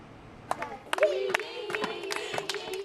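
A crowd of people claps in scattered, uneven bursts of hand claps, fairly close, with voices talking and calling over the applause.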